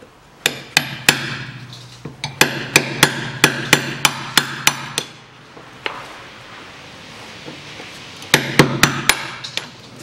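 Repeated loud hammer blows strike a Hyundai Accent 2006 1.5 rear wheel hub to free it, sharp metallic hits in quick bursts with pauses between, close and alone without talk.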